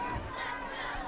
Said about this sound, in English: There's a big crowd early on tonight.